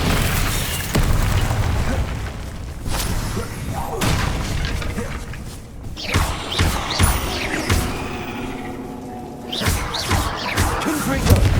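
Repeated booming blasts and heavy thuds from explosive spells fired in the Hogwarts Legacy video game, loud and irregular, mixed with someone shouting spell names throughout.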